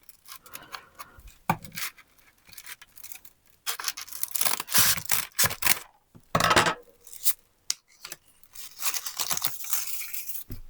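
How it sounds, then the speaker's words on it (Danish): Scissors cut crepe paper up close, a run of irregular crisp snips and rustles, some quiet and some sharp, with brief pauses between clusters of cuts and no talking. "Og så tager jeg den her saks."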